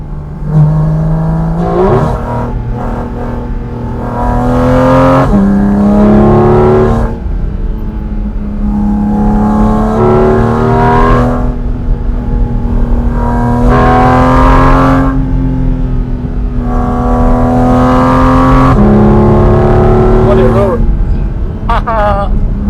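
Porsche Cayman GT4 RS driving on a Swiss Alpine pass at Oberalp and Susten, its engine loud and close, climbing in pitch through the revs and dropping back at each of several gear changes.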